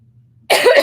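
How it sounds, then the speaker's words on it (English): A single loud, close, harsh cough bursting out after a moment of near silence. "I was just having a coughing fit."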